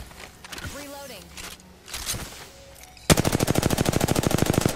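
Rapid automatic gunfire in the video game Apex Legends, a loud burst of evenly spaced shots filling the last second and a half after quieter game sounds and talk.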